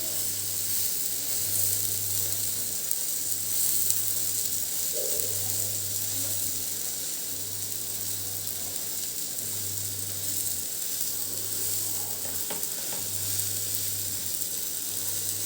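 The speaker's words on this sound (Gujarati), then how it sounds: "એક કે બે મિનિટ માટે આપણે એને શેકવાની છે" A pudla sandwich roasts in butter on a hot pan, producing a constant close hissing sizzle throughout, with a low rhythmic hum rising and falling in the background.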